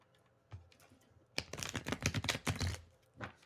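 Tarot cards are shuffled in a quick burst of close, crisp riffling clicks that rises and falls, with quieter handling before and after it.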